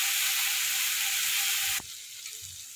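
Chilli sauce for chilli potatoes fries loudly in a pan with a dense, hissing sizzle that drops suddenly to a quieter bubbling, with no talk.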